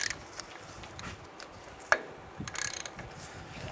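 A ratchet turns a 27 mm nut on the front wheel of a 1992-1996 Ford F-150, giving quiet, close, intermittent clicking bursts with a sharper metallic snap midway.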